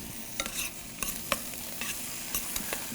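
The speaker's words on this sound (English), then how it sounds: "We'll mix it one more time." Kale and zucchini being stirred in a frying pan, with a soft steady sizzle underneath and a few scattered scraping clicks of the utensil against the pan, quiet and close.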